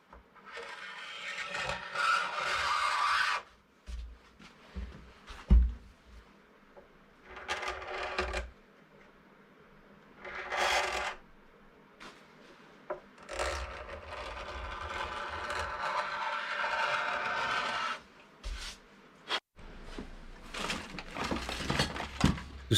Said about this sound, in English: Next, I'll add the details with a scraping tool.